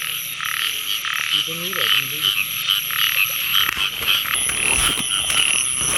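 Frogs croaking at night during a frog-hunting outing in Thailand, with a chorus of insects or frogs trilling steadily and closer individual croaks rising and falling, a few clicks and rustles near the end.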